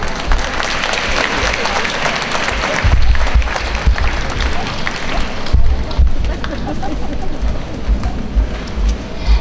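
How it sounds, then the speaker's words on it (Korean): An audience of exam students gives loud, warm applause to welcome a Megastudy math lecturer at a Korean city event. The dense clapping swells and continues throughout, with voices mixed in. "우리 시 수험생을 위해서 참석해 주신 강사님을 뜨거운 박수로 환영해 주시기 바랍니다"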